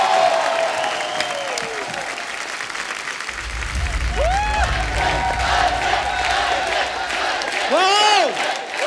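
A studio audience at a comedy talk show greets a superstar guest's grand entry with loud sustained applause and cheering, whoops and shouts rising over the clapping, while music with sweeping tones plays along.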